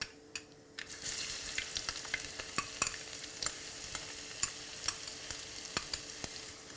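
Garlic dropped into hot oil with splattered mustard seeds and fenugreek for a Kerala fish curry, a sudden burst into steady close sizzling, punctuated by regular sharp clicks of a spoon stirring the pan.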